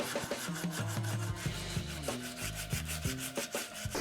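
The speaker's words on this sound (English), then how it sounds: "I like to form them by hand using anywhere from 80 to 120 grit sandpaper" Sandpaper rubs by hand along the wooden neck of a neck-through guitar in rhythmic back-and-forth strokes. The scratchy rasping sounds close and fairly quiet, with no voices.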